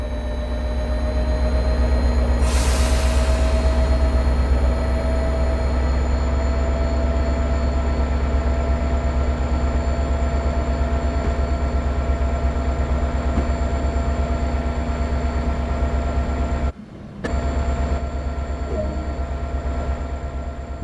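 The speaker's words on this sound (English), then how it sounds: "With the train now moving" Train engine running in a train simulator game, a loud, steady mechanical drone with a constant pitch that holds unbroken for about twenty seconds, cutting out for a moment near the end before resuming.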